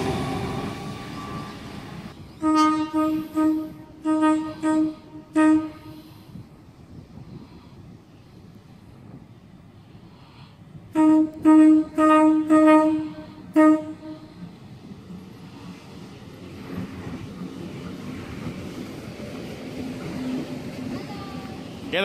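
A Sydney suburban train pulling away from a station platform sounds a series of short, loud horn blasts in two bursts, over the rumble of the departing train.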